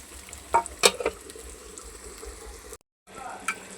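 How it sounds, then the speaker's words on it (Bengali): Spices and pointed gourd frying together for a curry: a soft, close sizzle under scraping and stirring knocks, a few sharper clatters early on, a brief dropout, then the frying continues with a voice talking faintly. "এই যে সব ধরনের মশলা আমি এনে একসাথে দিয়া কষাই নিতেছি এই যে পটলটাও দিয়ে দিছি"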